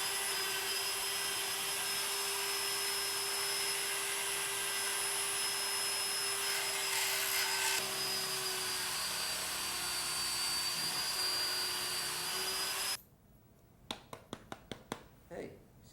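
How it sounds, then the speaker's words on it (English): A power drill boring through horn drones in a steady, loud motorized whine for about thirteen seconds, then cuts off abruptly, leaving quiet with a few sharp clicks and taps. "we're going to turn on a drill"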